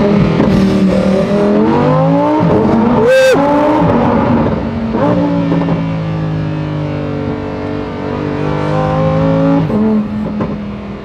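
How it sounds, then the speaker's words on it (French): A Lamborghini Huracan STO with a naturally aspirated engine revs in a tunnel, loud and close. Sharp throttle blips rise and fall over a reverberant roar, with faint voices beneath. "à chaque flash de régime, dès que t'effleures l'accélérateur, on sent chaque pourcentage de gaz que tu mets sur la pédale"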